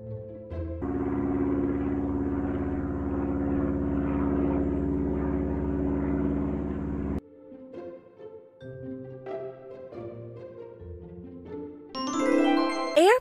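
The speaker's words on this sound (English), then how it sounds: "Airplane is a vehicle designed for air travel that has wings and one or more engines." An airplane sound from a children's alphabet game plays as a steady droning engine hum for several seconds, then gives way to chiming game tones and a bright jingle.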